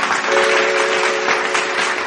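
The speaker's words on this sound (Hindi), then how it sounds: "जोरदार करताली" Loud, steady applause from a live audience at an Odia song request stage show, continuing evenly without a break, with a faint sustained tone underneath.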